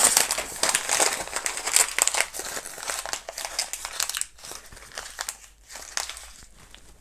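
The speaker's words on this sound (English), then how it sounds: "Piece of white paper, I'm going to scrunch it up." Thick white paper scrunched up by hand, a dense, continuous crinkling and crackling that runs loud and close for several seconds before thinning into softer, intermittent rustles.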